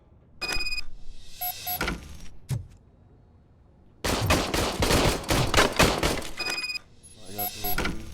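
Service pistol gunfire in Robocop: Rogue City comes as a few isolated sharp shots, then a fast, loud volley of repeated firing with metallic impacts, while voices speak in the quieter gaps.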